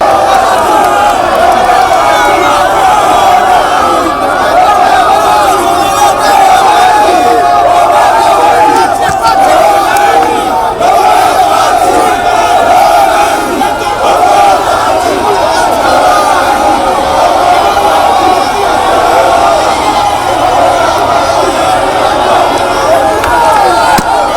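A jubilant crowd in Kamina greets President Tshisekedi outside the aerodrome with a dense, loud, continuous roar of cheering and shouting voices that holds steady throughout, with no single speaker standing out.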